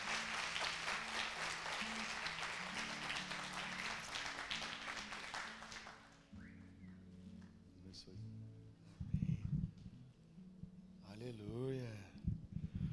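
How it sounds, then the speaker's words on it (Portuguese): A church congregation applauds loudly in a hall for about six seconds. The clapping then fades into quieter room sound with brief voices and a musical tone. "Pode aplaudir a Jesus pela vida do Brisa?"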